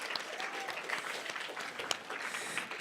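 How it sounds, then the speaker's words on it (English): An audience at an education annual institute stands and applauds the board members. The clapping is fairly faint and distant but steady and continuous, with scattered sharper claps through the short stretch. "would you guys please stand and just give a giant round of applause"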